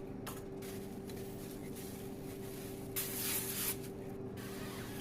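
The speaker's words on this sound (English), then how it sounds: "I'm going to spray a little bit of oil on the inside of it so it doesn't stick." Oil sprayed from a can onto the inside of a shower cap used to cover sourdough dough: one short hissing burst of about a second near the middle, close and moderately loud over a steady low room hum.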